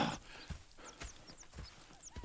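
Horses in the video game Red Dead Redemption 2 give soft, rhythmic clip-clop hoofbeats with a neigh near the start, all fairly quiet.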